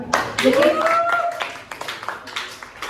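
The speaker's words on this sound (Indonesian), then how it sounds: "Tepuk tangan buat Adnan" A short burst of clapping from a small group, with a person's voice overlapping the sharp, scattered claps.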